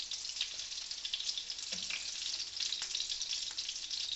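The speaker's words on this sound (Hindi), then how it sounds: "दूसरा बैच में आप फ्राई कर रही हूँ।" Chicken seekh kebabs frying in hot oil, a dense, steady sizzle and crackle close by, with a few soft clinks as pieces are turned.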